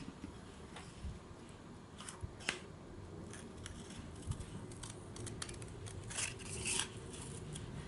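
Repeated snips of scissors cutting through paper or fabric, irregular and fairly quiet, with faint rustling between cuts and no talking.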